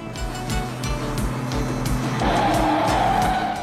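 A car brakes hard and skids, its tires squealing loudly and steadily over a low engine rumble, the squeal rising in pitch and holding through the moment, with no voices.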